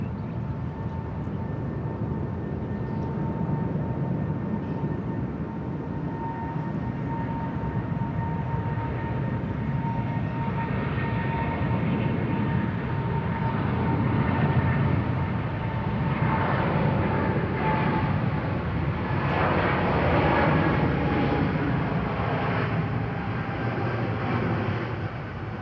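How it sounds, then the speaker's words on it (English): A Boeing 777-300ER airliner takes off at Bangkok Suvarnabhumi Airport, heard from a distance as a broad, steady jet roar that swells a little midway and keeps rumbling throughout, with no voices. "Heading off to Frankfurt this afternoon. Love the Boeing 777-300ER."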